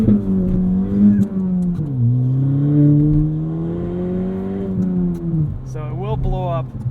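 A straight-piped 2017 Ford Fiesta ST accelerates hard in sport mode with wheel spin, its loud exhaust drone rising and falling through revs under close in-car talk, then sharply climbing at the end.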